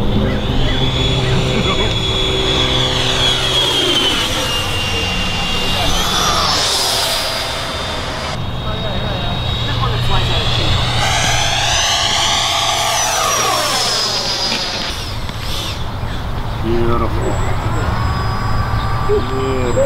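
A model jet aircraft takes off at an RC flying field with a loud, steady turbine whine that rises and sweeps in pitch as it passes close by. People talk over the constant roar.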